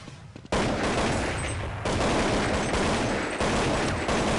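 Sustained spray of rifle fire in a Counter-Strike 1.6 match on de_train, a dense loud stream of rapid shots bursting in abruptly and continuing almost without pause.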